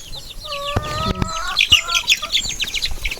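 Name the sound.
chicken clucking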